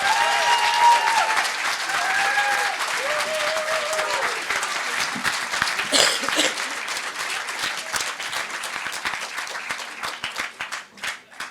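Sustained audience applause fills a hall at the closing ceremony of a film festival in Brive, dense clapping holding steady before thinning into scattered claps near the end.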